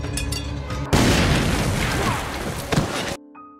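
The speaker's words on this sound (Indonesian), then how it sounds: "Ledakan itu didengar oleh Elsa yang sudah berada di rumah Imgard." A loud, sudden boom erupts and rumbles on for a couple of seconds before cutting off abruptly, preceded by a low droning tone.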